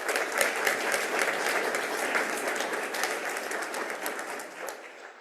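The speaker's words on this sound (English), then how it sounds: "so let's give them a round of applause" An audience at a statewide green schools recognition ceremony breaks into a steady, dense round of applause, full and sustained before thinning slightly at the end, with no talking over it.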